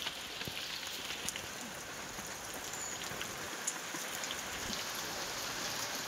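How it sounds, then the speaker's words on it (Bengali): Steady rain falls with a soft, even hiss and scattered drop patter on nearby surfaces, continuous and fairly quiet, with no voices. "1 থেকে 2 ঘন্টা বসে থাকার পরেও বৃষ্টি কিন্তু থামছে না।"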